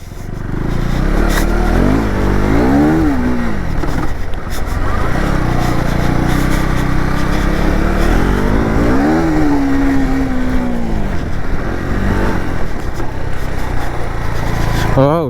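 KTM motorcycle ridden offroad at a dirt riding event, a loud close engine droning throughout with revs rising and falling, and a voice talking over it.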